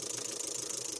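Suzuki Ertiga engine idling and unable to rev, heard as a steady mid-pitched rumble with a rapid, even pulsing and a slight rattle, then a brief bump at the very end.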